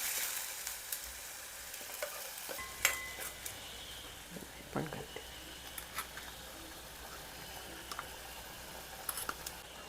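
Curry leaves, spice paste and vegetable purée frying in a pan for a Maharashtrian brinjal-potato bhaji, with a soft steady sizzle broken by a few clinks and stirring scrapes, no talking.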